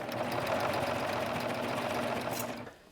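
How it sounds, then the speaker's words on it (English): A serger stitches binding onto fabric with a fast, even mechanical whir, close and moderately quiet, running steadily before stopping near the end. "now we're just ready to serge. And then you can begin sewing, serging."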